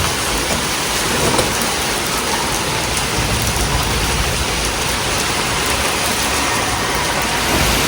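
Heavy rain pouring down in cloudy, windy weather in Noida, a dense, loud, unbroken roar of drops hitting surfaces.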